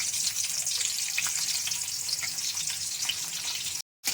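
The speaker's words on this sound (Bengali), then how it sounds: "আমি এটা ভাজা ভাজা করে নেব" Fennel seeds, cumin, chopped green chilli and ginger frying in refined white oil, a bright, steady crackling sizzle close by that runs unbroken until a sudden cut near the end.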